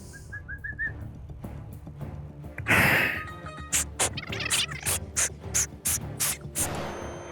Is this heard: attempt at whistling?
yes